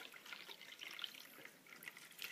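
Water is poured from one cup into another, giving a soft, faint, continuous trickle and splash for a couple of seconds in a quiet room.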